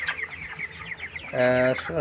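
Broiler chickens on fresh bran bedding in a poultry farm shed cluck and chatter steadily nearby on a winter evening, with one louder, drawn-out call near the end; a faint murmur sits underneath.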